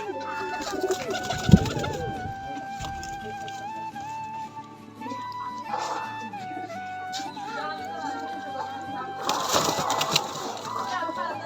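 Pigeons released into the sun, with soft cooing and scattered bird calls, close by, over rustling movement and bursts of noise, with people talking throughout.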